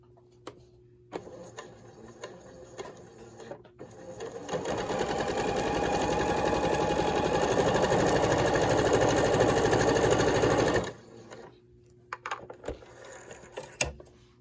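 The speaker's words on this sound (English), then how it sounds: "Now I'm going to stitch along that line." Sewing machine stitching quilted fabric for an Easter basket: a steady, close mechanical whir running about six seconds, with quiet handling noises before and after.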